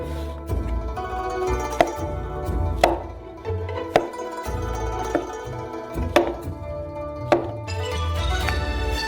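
A knife chops champignon mushrooms into quarters on a cutting board, giving a series of close, sharp thunks at an irregular rhythm over faint background music.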